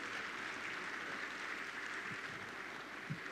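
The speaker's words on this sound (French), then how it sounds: "Et on applaudit très fort pour cette photo" Faint, steady applause from an audience at the Africa Cup of Nations draw ceremony, a distant wash of clapping with a couple of small knocks near the end.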